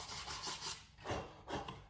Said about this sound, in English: I'm just sanding it slightly